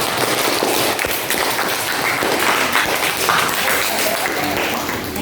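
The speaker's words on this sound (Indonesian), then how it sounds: "Beri tepuk tangan untuk yang maju dan yang maju." A school class applauds in a classroom, a dense, steady burst of many hands clapping together that stays loud for several seconds.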